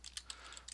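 Several quick, faint keystrokes on a computer keyboard tap out a short word in a quiet room, clicking in an uneven rhythm.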